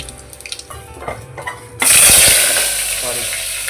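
Cumin seeds dropped into hot oil in a small pressure cooker burst into a loud, sustained sizzle after some quieter clattering, the hiss staying strong and gradually easing.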